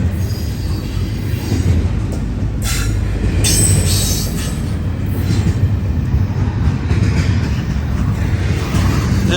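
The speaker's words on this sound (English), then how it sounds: "BNSF westbound intermodal hotshot that originates at the BNSF Intermodal Terminal at Cicero, Illinois" BNSF westbound intermodal freight train rolling past near the track, a continuous loud rumble of wagons with wheel squeal and high metallic screeches throughout.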